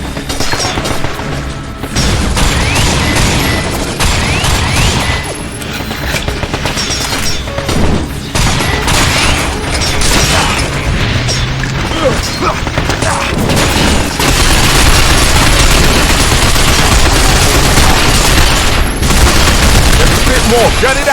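Gunfire from the video game Binary Domain: dense, loud bursts of automatic fire and booming impacts fill the whole stretch, with shouted voices mixed in.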